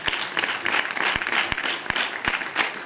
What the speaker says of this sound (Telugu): ఒకసారి అన్న కూడా గట్టి చప్పట్లు కొడదాం